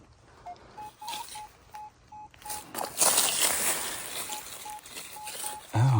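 A metal detector sweeping ground littered with iron nails gives short, repeated beeping tones, intermittent and clipped, over scraping and rustling of the coil and soil, with a thump at the end.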